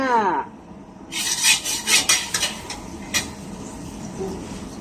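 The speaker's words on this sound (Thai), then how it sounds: "เริ่มผัดกันเลยค่ะ" Chicken stir-fried with ginger, garlic and sesame oil, a spatula scraping and rasping against the pan in uneven strokes with a faint sizzle beneath, close and fairly loud.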